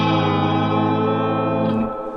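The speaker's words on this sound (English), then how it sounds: "that's the Fender reverb full up" Fender Deluxe Reverb ('68 Custom Deluxe) guitar amp with its reverb full up: a sustained, shimmering chord with a lush wash of spring reverb that rings evenly, then decays away with a brief pluck near the end.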